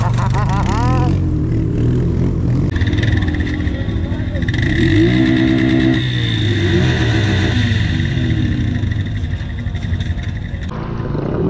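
A stock Can-Am Outlander ATV engine revs loud and close, rising and falling in a rumbling mid-pitched drone through most of the stretch, with people talking over it.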